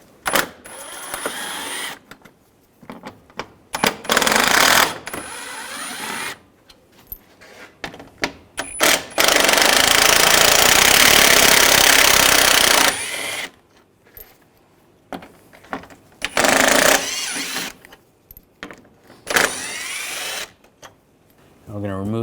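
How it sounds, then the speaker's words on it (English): Power driver with a T30 socket backing out bumper cover screws on a 2009-2010 BMW 535i xDrive, loud buzzing whirs in several bursts of varying length, with people talking in between. "Using a T30 socket, we're going to take these screws out."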